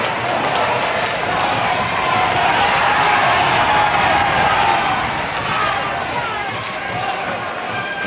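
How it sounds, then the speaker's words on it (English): A boxing crowd at a 1974 heavyweight bout roars wildly and continuously, a dense, loud wall of cheering and shouting that never lets up across the ring. "The crowd here really going mad."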